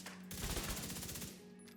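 Rapid automatic gunfire in The Division 2, a fast even burst of shots lasting over a second, fairly quiet and steady, then cutting off.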